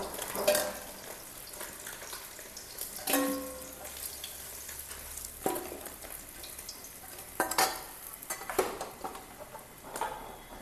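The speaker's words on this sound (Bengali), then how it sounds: "আমাদের মাছ ভাজাগুলো হয়ে গেল, একদম লাল করে ভাজা" Bata fish sizzling in oil with soft crackles, punctuated by several utensil clinks and scrapes against the pan, moderately quiet.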